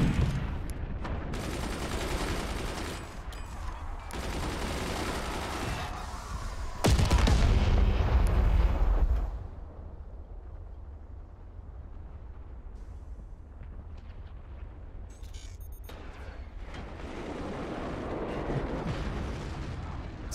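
Heavy cannons fire in a naval battle in the video game Forts High Seas. Booming shots and crackling impacts come in rough bursts, with one loud, sustained blast in the middle before things quieten, then more firing toward the end.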